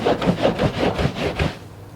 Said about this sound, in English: now I'm going to rub aggressively and mop up my cleaning solution and the dirt.